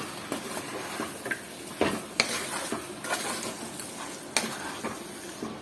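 Chicken with masala and salt being stirred in a pan, with a scraping spoon, soft sizzling and a few sharp clinks of metal on the pan, steady and close with no talk.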